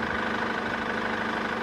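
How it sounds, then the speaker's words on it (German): A car engine idles nearby with an even, continuous hum and a faint rhythmic throb, steady throughout with no voices. "Machen Sie das bitte nur mal den Motor für einen Moment aus."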